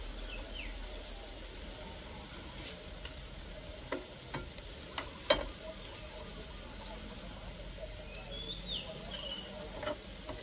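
Beef frying in a hot pan gives a steady, low sizzle, with a few sharp clicks and stirring clatters scattered through it.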